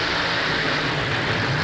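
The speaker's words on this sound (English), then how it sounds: "454 cubic inch blown engine." A 1989 Chevy pickup monster truck with a blown 454 cubic inch engine roars loudly and continuously at an outdoor mud and monster truck event, a dense steady engine din with no break.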